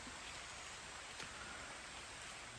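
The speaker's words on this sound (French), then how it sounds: "Ah ben il pleut. la pluie arrive" Rain falls in a Costa Rican forest near a river as a soft, even hiss. It is faint and steady, with a few slightly sharper drops standing out.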